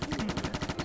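X-Shot Super Laser Fort toy laser gun firing in a rapid, evenly spaced burst of about a dozen electronic pulses, close and fairly quiet.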